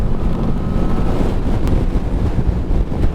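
Strong wind buffeting the microphone on the A897 road in Scotland, a steady, loud low rumble, continuous throughout with no voices.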